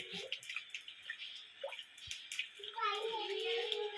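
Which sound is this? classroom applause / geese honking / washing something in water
washing something in water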